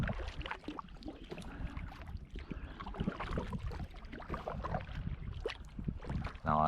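Styak kayak paddled on a lake, with soft, irregular paddle splashes and water lapping close by, plus light wind buffeting the microphone throughout.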